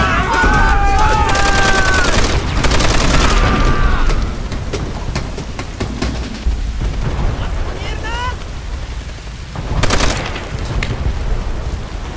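A heavily fortified machine gun fires from a bunker on a hillside battlefield in Call of Duty: World at War, rattling in rapid bursts amid explosions and constant battle din, with shouted voices over it.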